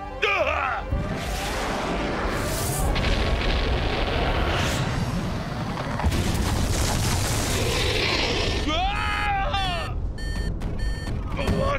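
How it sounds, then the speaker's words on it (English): A factory explodes in a Sonic cartoon with booming, crashing blasts and rumbling debris, loud and chaotic, mixed with electronic beeps and cartoon sound effects. "The factory's going to blow!"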